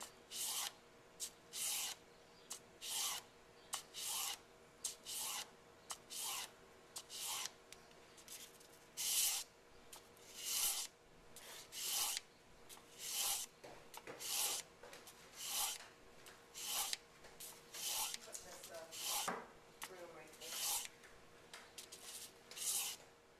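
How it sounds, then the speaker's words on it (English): Knife blade drawn across a 1000 grit whetstone in steady back-and-forth sharpening strokes, a repeated rhythmic scraping hiss, close and fairly quiet, over a faint background hum. "I find my angle for my edge, and I do about 10 strokes going each direction"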